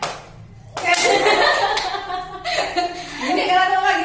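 Children in a classroom perform a rhythmic clapping game led by a teacher, bursts of hand claps in quick patterns mixed with a teacher's voice and some giggling.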